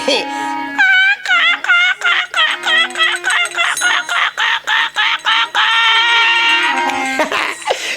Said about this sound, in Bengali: ওই দেখো ব্যাগের মধ্যে কক কক কক কক করছে